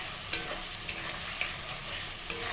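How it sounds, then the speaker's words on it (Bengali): Battered eggplant fritters (beguni) frying in hot oil give a steady, close sizzle, with a few sharp clicks and scrapes from stirring. No one talks. "এখানে বেগুনি হচ্ছে ওখানে বসিয়েছি বেগুনি শুরু করেছি সবে"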